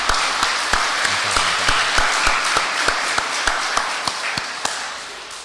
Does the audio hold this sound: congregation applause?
yes